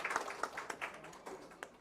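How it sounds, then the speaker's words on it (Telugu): Scattered, quiet hand claps sound from a live lucky draw event audience, heard as a dozen or so distinct, spaced slaps rather than a full roar. The claps seem somewhat distant. "సో ఒకసారి అందరూ గట్టిగా క్లాప్స్ కొడితే మనం స్టార్ట్ చేద్దాం"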